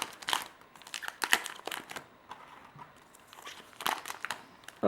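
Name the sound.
Pokémon card booster packs being opened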